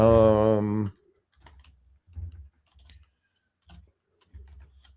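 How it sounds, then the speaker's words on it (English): Faint, sparse computer keyboard typing during a morning radio show, a few soft clusters of key taps with gaps between them after a brief sustained tone at the start. "Sorry, I'm typing."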